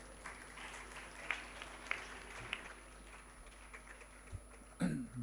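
Audience applause at an Urdu literary conference session, faint and diffuse with a few sharper claps standing out, continuing steadily before a brief louder sound near the end.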